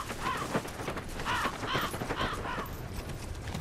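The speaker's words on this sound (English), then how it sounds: "Bloody crows." Crows in the video game Nioh caw in a series of five or six harsh calls, some single and some in pairs. The calls sit over a busy, noisy game background of clatter and ambience.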